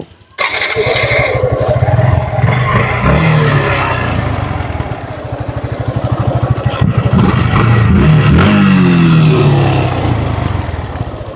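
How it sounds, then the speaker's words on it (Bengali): A motorcycle engine cranks and catches, then idles with a loud, steady throb and a few revs, close by with no talking. "এই বাইকটি আমরা স্টার্ট করে সাউন্ডটা দেখানোর চেষ্টা করব"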